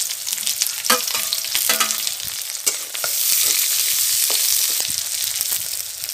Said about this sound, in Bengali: এইবার পেঁয়াজ কুচি আর লঙ্কা কুচি একসাথে দিয়ে দিলাম।